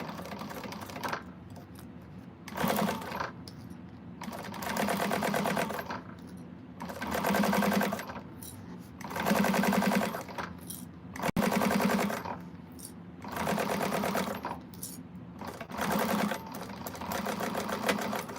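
A sewing machine runs a double stitch on a quilted Zodiac Group bag in repeated bursts of rapid mechanical chatter, each lasting a second or two, separated by short pauses, close and steady.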